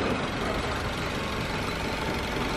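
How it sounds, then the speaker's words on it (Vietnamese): A car engine idling steadily during a test run of a newly bought car, a dense continuous rumble with no talk over it. "Bảo đang thử máy nè"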